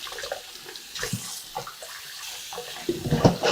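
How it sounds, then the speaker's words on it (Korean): Eggplant and lemon are rinsed under running tap water, making a close splashing stream with bursts and gurgles as the produce is handled. The water swells louder near the end. "이제 가지하고 레몬을 깨끗하게 씻었는데요"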